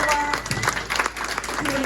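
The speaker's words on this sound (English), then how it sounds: "let's have a round of applause there for Steve Williams" Brief applause for Steve Williams at a Belle Vue versus Kent speedway press conference, clapping mixed with a voice talking over it in a short burst.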